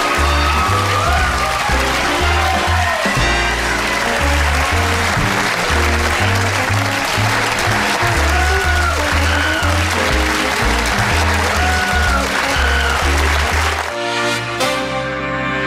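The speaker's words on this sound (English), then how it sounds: "I'm humbled by that applause." A television studio audience applauds at the end of a late-night talk show. The sustained clapping runs for about fifteen seconds, mixed with a band playing.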